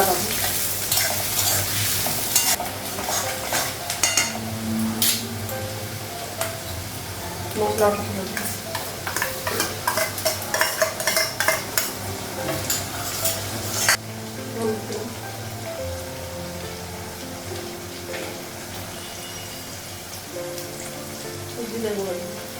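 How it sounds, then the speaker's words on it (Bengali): Onion and dried red chilli fry in a pan, giving a long, steady sizzle with bursts of crackling and stirring scrapes, louder in the first half and then settling to a gentler hiss. "পেঁয়াজটাও লাগাই পাতা শুকনো লঙ্কা"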